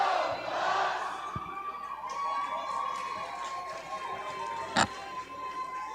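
Crowd at an ACHA men's college ice hockey game between Colorado State and Colorado roars after a Colorado goal, a sustained arena cheer with a sharp burst near the end, under a faint tonal whine.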